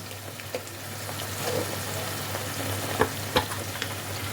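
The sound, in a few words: spices sizzling while frying paneer masala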